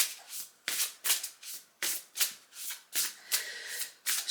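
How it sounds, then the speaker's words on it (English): Oracle cards are shuffled over and over in a steady rhythm, each pass a soft brushing rasp, close and fairly loud, with no talking. "Let's give the cards a good shuffle."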